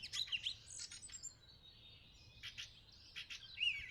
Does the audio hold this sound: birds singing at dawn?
yes